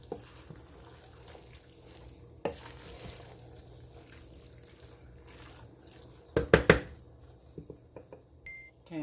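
A pot of three bean chili with fire roasted tomatoes is stirred with a spoon: quiet wet scraping and soft knocks against the pot, then a cluster of louder clanks near the end, with no talking.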